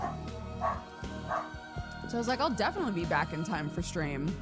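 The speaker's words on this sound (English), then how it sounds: "Why are you barking?" Pet dog Peachy barks in short, sharp yips and whimpering bow-wows close by, several quick calls near the end, while someone talks over them.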